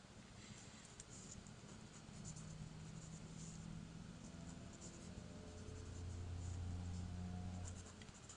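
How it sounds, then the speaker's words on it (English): Handwriting of a letter M with pen or marker, a soft continuous scratching and patter close by, with a low hum in the background. "I'm writing an M for Mercury because we're in that liquid now"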